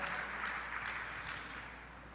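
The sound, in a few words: congregation applause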